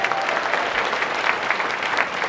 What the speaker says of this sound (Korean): 윤미 씨한테 다시 한번 큰 박수 부탁드리겠습니다